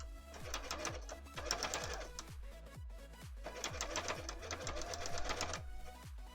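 A sewing machine stitches cosplay pleats in rapid mechanical bursts, each run of clattering needle strokes separated by brief pauses, close and clear with no talk.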